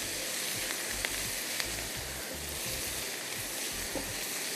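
Onion, garlic, green chillies, curry leaves, cumin and round red chillies fry in hot oil for a tadka, giving a steady, dense sizzle with a few small pops and no talking.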